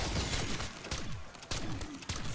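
Rapid bursts of gunfire from a weapon in a zombie shooter game crack out in quick clusters, loud and close, with short gaps between volleys.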